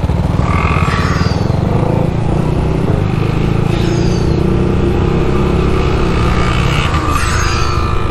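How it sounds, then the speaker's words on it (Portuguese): An FZ15 motorcycle fitted with an electronic turbo runs loud and close, its engine drone steady while rising whistling sweeps from the turbo come and go in a few repeated bursts. "a moto tem turbo. Que louco. Eu sei qual é esse turbo, é turbo eletrônico."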